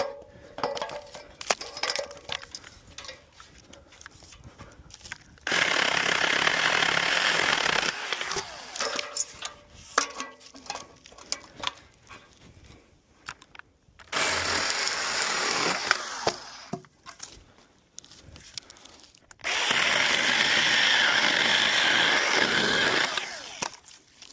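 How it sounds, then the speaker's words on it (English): A saw trims wood while a zip line platform is built up in the air, cutting in three long, loud, steady bursts of several seconds each, with quieter handling and rustling between them. "I'm gonna start by trimming out with the saw."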